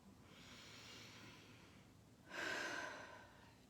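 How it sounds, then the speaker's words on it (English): Soft, slow breathing during a guided morning meditation, a long faint airy exhale followed by a fuller, closer breath, alone in a hushed room. "Some gentle breaths."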